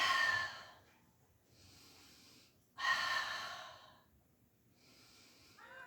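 Slow breathing during a pilates exercise, with two long, airy exhales alternating with quieter inhales, close to the mic and unhurried, with no talking.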